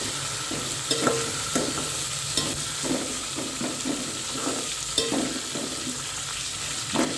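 Curry leaves frying in a pan for gongura dal, a continuous hot-oil sizzle with repeated crackles and spoon-stirring scrapes at an uneven rhythm.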